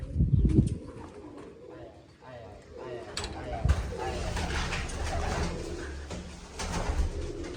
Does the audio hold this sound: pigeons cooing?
yes